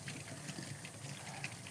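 Bike parts are rinsed under the spray nozzle of a shop sink with hot water, a faint steady hiss of running water with small splashes flickering through it.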